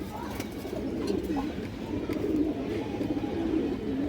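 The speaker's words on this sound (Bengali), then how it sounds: "এই যে দেখেন সুন্দরী নর কবুতর" Pigeons, including a red-eyed male, coo in soft repeated bursts close by, with a voice talking over them throughout.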